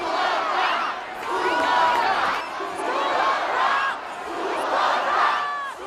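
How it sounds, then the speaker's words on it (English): A concert crowd chants "School of Rock" for an encore, a loud rhythmic mass of voices that swells and dips in repeated waves, with cheers and whoops rising over the chant. "The crowd starts chanting School of Rock,"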